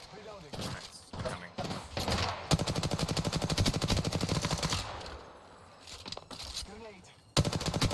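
Automatic gunfire rattles in a video game as a rapid, sustained burst of shots, loud and close, with a player's voice talking over parts of it.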